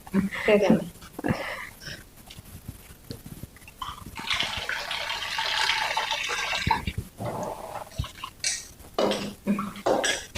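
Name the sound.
washing soaked urad dal in water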